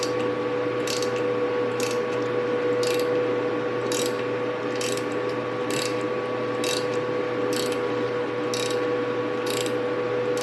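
A ratchet socket wrench clicks in a steady rhythm while turning an off-centre nut during a 2011 quad cab truck teardown, loud and close with an evenly repeating pawl ratchet over a constant hum.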